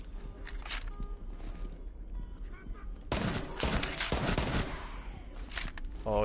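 A burst of gunfire from a weapon in the Rainbow Six Siege Outbreak game, sharp clustered shots cracking over a few seconds amid other game sounds, with players talking.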